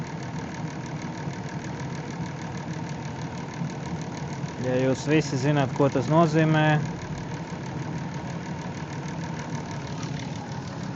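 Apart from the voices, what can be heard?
Chrysler Town & Country engine started and running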